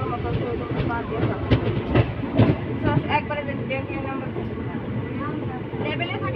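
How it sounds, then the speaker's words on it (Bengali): Katwa local train on the Eastern Railway rumbling along at night, a steady broadband roar with rhythmic clatter and occasional clanks, heard from on board while voices chatter over it. "এদিকে আবার কাটোয়া লোকাল ঢুকছে"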